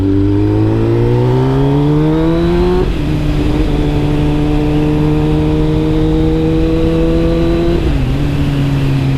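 Motorcycle fitted with an SC Project SC1-R exhaust revving up loudly nearby, its throaty pitch climbing through gears, then holding at a steady drone before easing slightly near the end, with no speech.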